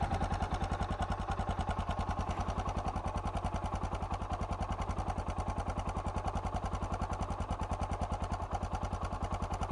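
A Suzuki DR650 motorcycle with a GSXR exhaust pipe idling steadily, an even rapid single-cylinder thump that repeats throughout at moderate level with no talking.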